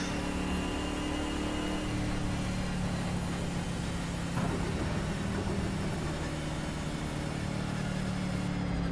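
A Project Cars racing game car engine drones steadily at cruising speed in fifth gear, a constant mid-low hum with no talk over it.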